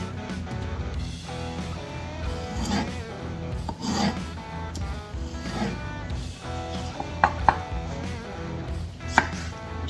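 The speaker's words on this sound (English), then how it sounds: "Go and get these pickles cut up here." A knife cuts pickles on a board while making a fried dill pickle dip. Quick, continuous chopping and scraping strokes sit up close, with a few sharper clicks, over a steady air conditioner hum in the background.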